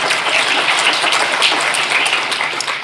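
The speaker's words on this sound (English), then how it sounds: "Please clap for him." Steady applause from a conference audience, dense even clapping that fills the room at a constant level, with no talking over it.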